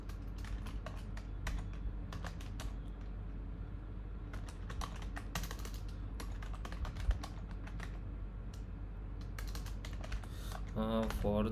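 Python calculator code being typed on a computer keyboard, with a dense run of quick clicking keystrokes in irregular bursts, close and moderately loud, and a voice speaking briefly near the end.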